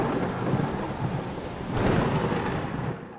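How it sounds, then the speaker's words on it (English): A thunderstorm with heavy, steady rain pouring onto surfaces while deep thunder rumbles underneath, swelling midway through and then fading, close and continuous with no voices. "Thunderstorms can be loud. The booms, bangs, and pings can be startling."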